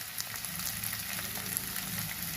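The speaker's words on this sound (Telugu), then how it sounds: "ఇదిగోండి ఉల్లిపాయ ముక్కలు వేస్తున్నాను. ఈ ఉల్లిపాయలు అన్నీ వేయాలి." Onion pieces fry in a pan for an Andhra-style sea prawn fry, giving a steady, quiet crackling sizzle with small pops and no voices.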